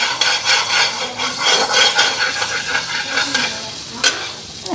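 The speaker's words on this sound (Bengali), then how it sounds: "বাটার পুরা গরম হয়ে গেছে গা কড়াইটা বাটারও তাড়াতাড়ি গইলা দিতেছে" Butter melting in a very hot wok sizzles loudly and close, mixed with rhythmic scraping and stirring strokes that swell and fade in repeated waves.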